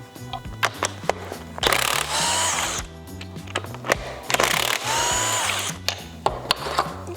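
A ratchet wrench works loose the oil pump on a 1958 Plymouth V8, giving bursts of rapid metallic clicking with pauses between strokes, close and fairly loud, with no talking.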